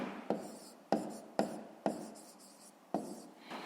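A pen writes on paper in a few quick scratchy strokes, each starting with a sharp tap and trailing off, close and quiet with no talking.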